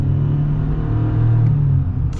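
Heard from inside the cabin, a 2023 Chevy Silverado 1500 Custom pickup pulls hard under acceleration with a continuous low engine rumble that eases slightly near the end, with no speech.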